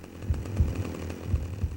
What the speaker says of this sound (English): It's explicitly stated in the instruction manual that Pigsy keeps his chainsaw blades nice and dull to maximize the pain that he inflicts.